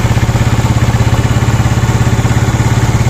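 A Yamaha Mio Sporty scooter fitted with a 54mm touring set idles close by in a steady, rapid pulsing rhythm, loud and unbroken, with no talk over it.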